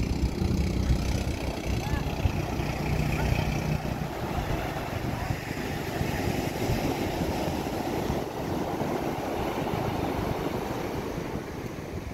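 Sea waves wash and churn around boats being launched at a rough shore, a loud steady surf mixed with gusty wind noise on the microphone.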